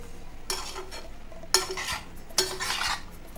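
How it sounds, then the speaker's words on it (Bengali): Prawns being stirred into a malai curry gravy in a pan, with three distinct scraping stir strokes of a spoon against the pot, close and fairly loud, over a faint background sizzle. "চিংড়ি মাছগুলো এবারে আমি এতে দিয়ে দেবো, দিয়ে এবারে এটার সাথে খুব ভালো করে মিশাতে হবে সমস্ত গ্রেভিটার সাথে।"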